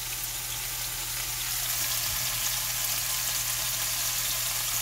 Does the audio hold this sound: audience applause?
no